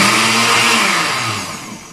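A blender whirring at high speed as it mixes a cookie ice cream base with CMC stabilizer, a loud steady motor drone close by that starts to wind down near the end.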